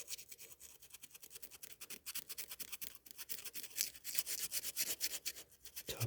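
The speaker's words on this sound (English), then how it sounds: "Take a little bit of sandpaper to" Sandpaper scrubs the top of a brake rotor on a 1976 Toyota Celica RA24 in a steady, close, raspy stream of quick rubbing strokes that runs without pause and with no talking.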